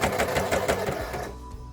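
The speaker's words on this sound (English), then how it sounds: "you want to do your 7/8 of a hem seam all the way around" A sewing machine stitches a hem seam on a T-shirt dress in a rapid, even mechanical chatter, close and clear, running for about a second before stopping and leaving a faint hum.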